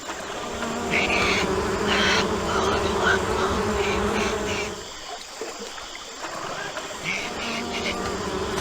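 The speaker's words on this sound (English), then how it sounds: "Very poorly rendered bees." Steady, loud insect buzzing from poorly rendered bees in the adventure video game Amerzone: The Explorer's Legacy, droning continuously with a brief dip midway before resuming, with no talk over it.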